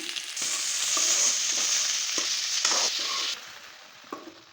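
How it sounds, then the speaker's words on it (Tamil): Okra frying in a pan gets stirred. A steady hiss of sizzling oil runs under repeated scraping strokes of the spoon, then eases to a quieter sizzle with a few last stirs. "இப்போ வந்து நல்லா கொஞ்சம் கிளறிக்கலாம்"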